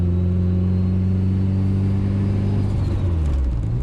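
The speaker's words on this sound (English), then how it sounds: "It's the blow off, man, every time as well." A tuned Mitsubishi EVO 8 GSR making over 500 bhp roars under acceleration, its engine note rising and shifting, with a short hissing rush of the blow-off valve near the end.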